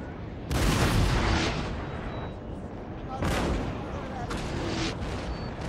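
Cannon fire booms in the Napoleon: Total War video game at the Battle of Waterloo, two heavy artillery blasts a few seconds apart, each rolling into a long rumbling decay.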